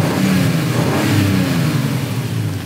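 A Toyota Supra MK4 inline-six runs steadily and close by, a low, even engine drone with a slight rise in revs and no talk.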